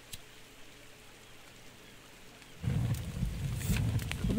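Rain falls in the survival game The Forest, first as a quiet hiss, then swelling abruptly into a louder, steady downpour with a low rumble partway through.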